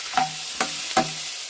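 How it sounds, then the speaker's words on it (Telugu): Tomato and onions with turmeric frying in a pan, heard as three quick spoon scrapes and stirs over a soft, steady sizzle, close and fairly quiet. "ఇప్పుడైతే ఇందులో టమాటా వేస్తున్నాం. ఇందులో కొంచెం పసుపు, టమాటా మగ్గేదాకా వేయించాలి."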